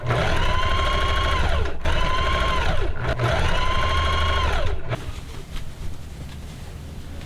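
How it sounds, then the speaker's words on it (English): Sewing machine running a romper seam in steady bursts, three sustained stitching runs with brief pauses between them, then a quieter tail with only light handling noise. "I'm going to stretch and sew this"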